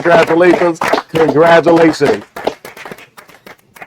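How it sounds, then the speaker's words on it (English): An audience claps in short, sharp bursts after a film festival award for best movie and top actor is announced. The clapping follows a stretch of loud, excited voices and fades toward the end. "Come on, clap it up."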